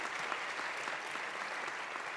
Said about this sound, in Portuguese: A eles também a nossa salva de palmas e nossos parabéns.